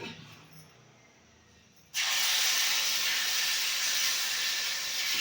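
Paddu batter poured into a hot, oiled paddu pan sets off a sudden loud, steady hissing sizzle after a quiet start, continuing evenly to the end.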